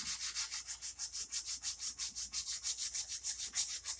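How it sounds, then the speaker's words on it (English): Rhythmic hand sanding on a steel knife blade, quick regular back-and-forth scraping strokes, close and steady with no voices. "And we're just going to keep on sanding."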